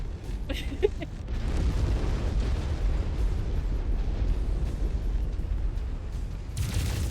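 A battle explosion in MechWarrior 5 during the Battle of Tukayyid, heard as a loud, sustained low rumble that rolls on for several seconds, with a faint crackle near the start and a brighter burst at the end.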